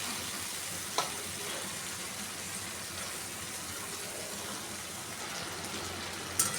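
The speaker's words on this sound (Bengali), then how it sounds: "এবার আমি সব মশলাটাকে ভালো করে কষিয়ে নেব।" Spices and potatoes sautéing in a pan, a steady low sizzle holding throughout with two brief clinks near the start and end.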